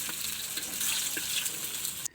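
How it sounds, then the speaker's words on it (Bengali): Fritters deep-frying in hot oil give a steady, close, dense sizzle that runs unbroken and ends abruptly with no voices. "দেখতে দেখতে প্রায় বুড়াটি ভাজা শেষ"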